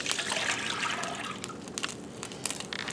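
Apple cider vinegar is poured into a container in a home kitchen, a continuous liquid splash and trickle with a few brighter drips and splashes, close and fairly quiet.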